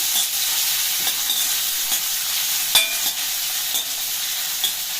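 Crushed ginger and onions sautéing in a hot pan, a loud steady sizzle held throughout with a few sharp clacks of a stirring spoon against the pan, close up and with no voices.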